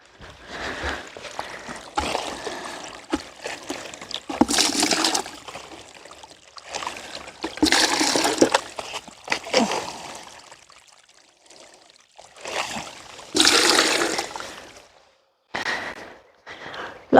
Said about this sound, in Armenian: Եթե ջրվի, այստեղից ջուր լցնեմ